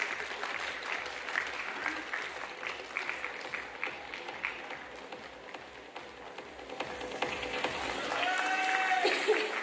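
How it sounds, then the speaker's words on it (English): Audience applause in a hall at an international management conference, a sustained round of clapping at moderate distance with crowd murmur, swelling slightly louder toward the end. "With a huge round of applause."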